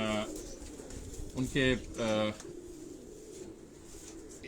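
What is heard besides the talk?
pigeons cooing at the doctor's house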